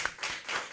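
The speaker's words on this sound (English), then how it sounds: "Let's get a clap around applause for everybody." Group of people clapping, a brief burst of a few quick claps heard close up.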